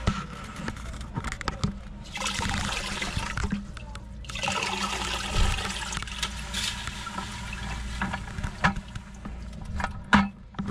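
Water and dirt are dumped through a screen while prospecting for gold in the Adirondacks, a rushing, gurgling pour that comes in surges, with trickles and splashes between them, close by.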